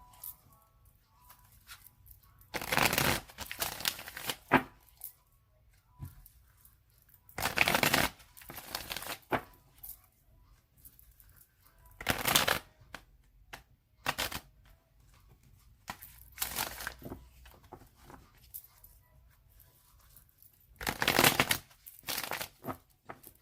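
Tarot cards are shuffled in several short, crisp riffling bursts separated by quiet gaps, fairly soft and close.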